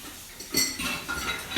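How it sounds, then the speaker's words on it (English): A utensil stirring banana bread batter in a bowl, a few quick clinks and scrapes against the bowl's side, close and fairly quiet, with no talk. "And then just stir it up real good."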